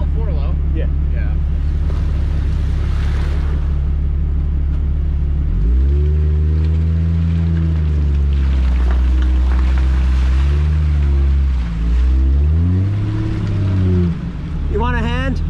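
Jeep JK stuck off-road with wheels spinning, engine revving up and down in long surging swells, loud and close, with voices talking over it.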